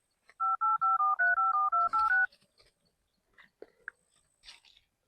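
A telephone being dialed: about ten quick keypad tones in a rapid even sequence, loud and close, followed by a few faint clicks and rustles.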